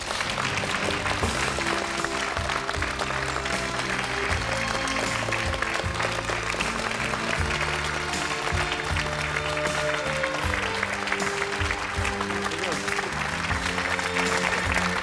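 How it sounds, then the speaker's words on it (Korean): Sustained applause from a large crowd at an army unit event fills the space, dense and steady clapping that continues without pause. "따뜻한 박수로 맞이해 주시죠."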